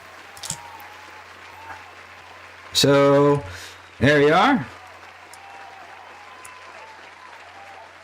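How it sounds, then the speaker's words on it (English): A live show audience keeps up a soft, distant patter of applause to welcome a guest, while a voice speaks briefly over it in two short bursts. "let's give a round of applause"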